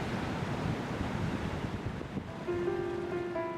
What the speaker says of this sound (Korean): 거센 파도는 잦아들었다.